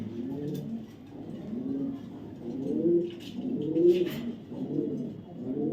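Racing pigeons of a foreign-style breed coo in repeated low throaty rolls, several overlapping calls close by at a steady moderate level, with a few faint higher chirps above and no talk.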